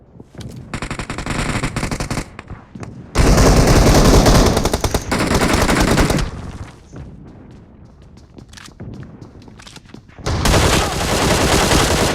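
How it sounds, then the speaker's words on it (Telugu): Sustained automatic gunfire exchanged between two squads in a BGMI battle royale match, rattling bursts in loud waves with brief lulls, one heavy volley mid-clip and another near the end, no talking. "2 స్క్వాడ్లు అనుకుంటా కొట్టుకుంటున్నారు వాళ్ళు"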